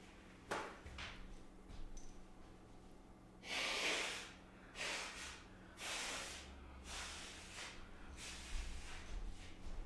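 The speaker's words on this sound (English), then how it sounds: "gotta blow my nose" Several forceful, wet nasal blasts and sniffs from close by, spaced a second or two apart, quiet overall with no speech.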